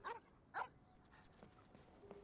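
A dog in the video game Genshin Impact gives two sharp, clear barks close together, followed by softer whimpering yips against a quiet background.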